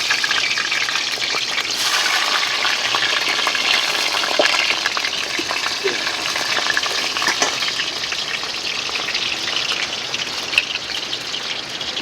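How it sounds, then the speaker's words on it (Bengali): Oil sizzles and crackles steadily as potatoes fry in a pan, with occasional stirring scrapes; no voices. "এখন আমি আলুগুলো ভেজে নিচ্ছি।"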